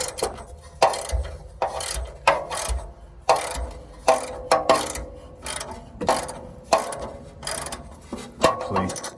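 A ratchet on a long extension and socket works exhaust bolts loose on a Porsche 986 Boxster, giving repeated bursts of close, rasping clicks in an uneven rhythm, roughly a dozen strokes with short pauses between them.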